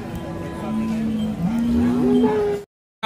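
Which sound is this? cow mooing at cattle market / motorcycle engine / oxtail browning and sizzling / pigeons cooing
cow mooing at cattle market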